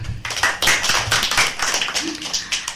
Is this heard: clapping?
yes